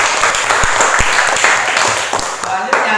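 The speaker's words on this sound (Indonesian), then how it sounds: "tepuk tangan untuk kelompok 1 dan kelompok 2" A classroom of students claps for student groups, giving a dense, close burst of applause that stays loud and steady with sharp individual claps standing out.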